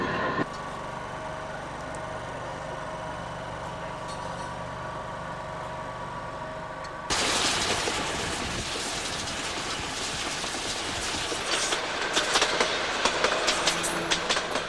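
The Royal Orient train runs steadily on its rails on the way to Udaipur, a continuous rolling rumble with rattling carriage noise that grows louder and busier halfway through, with faint clacks near the end.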